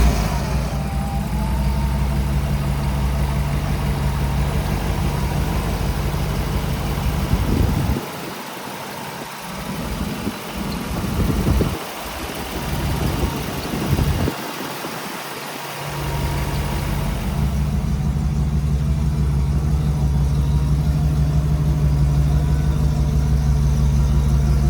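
A 1966 Ford Bronco 4x4 with a V8 engine runs at a steady idle. A low, continuous rumble holds up close, with a few brief dips in the middle, and there is no talk over it.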